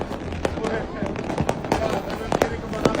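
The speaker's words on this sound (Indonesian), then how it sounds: "Kembang api semua" Fireworks crackle and pop around a New Year's celebration seen from about 20 meters up, several sharp bursts spread through the clip over a constant background hubbub with voices.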